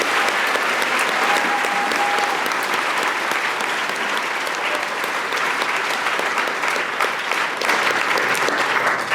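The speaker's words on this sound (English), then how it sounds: "Please give a final round of applause to the Navy veterans." Dense, steady applause from a school assembly audience honoring Navy veterans at a high school Veterans Day event, loud and sustained throughout with a faint tone briefly audible.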